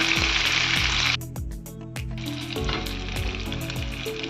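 Fish pieces fry in a little oil with a steady, bright sizzle that drops briefly and picks back up, with rhythmic low thumps beneath and no talking.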